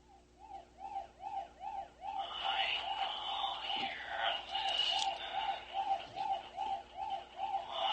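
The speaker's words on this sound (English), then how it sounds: "it sounds like an ambulance" An ambulance siren plays back from a recording, a fast, regular rising-and-falling wail that repeats throughout at moderate volume while voices talk over part of it.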